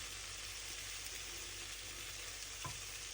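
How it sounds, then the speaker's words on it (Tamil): Sugar in a frying pan for green plantain sambal bubbles and caramelizes with a soft, even, continuous sizzle at low volume, with one brief clink near the end. "சேர்ந்து சீனி கரமலாகி வரும் வரைக்கும் விடுங்க."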